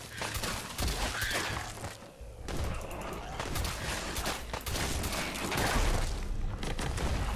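Rapid, overlapping shotgun blasts in Fallout 4 fire in dense bursts, loud and close, with a brief pause partway through before the shooting resumes.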